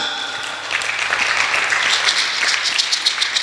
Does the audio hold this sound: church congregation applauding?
yes